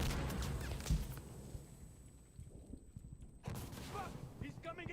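Sniper fire in the shooter game Arc Raiders, sharp cracks and bursts amid busy footsteps and movement, with a thin ringing tone and a voice speaking over parts of it.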